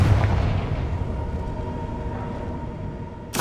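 A Confringo fire spell in Hogwarts Legacy sets off a rumbling, booming blast that decays over a few seconds, followed by a sharp new burst at the very end, with no talk.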